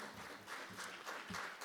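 An audience at a conference session claps together, a soft, distant patter of applause that stays even and faint throughout the short moment.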